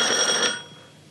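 A quiz buzzer gives a single short electronic ring that fades away within about a second, heard alone.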